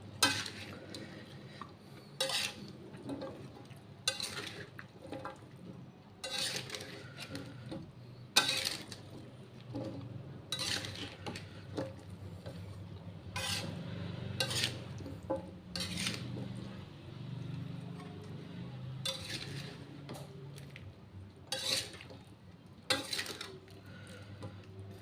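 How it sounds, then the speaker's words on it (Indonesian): Tumis pare, a bitter gourd stir-fry, stirred in a pan, with repeated scraping and clinking of a utensil against metal in an uneven rhythm over a faint sizzle, quiet and close, no talk. "Kita aduk-aduk lagi sampai rata"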